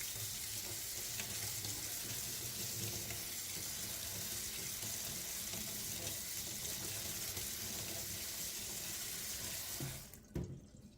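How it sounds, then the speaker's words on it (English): Cucumber seeds being rinsed under a running tap, a steady close hiss of water splashing into a sink for about ten seconds before it shuts off with a small clunk. "Give it a quick rinse."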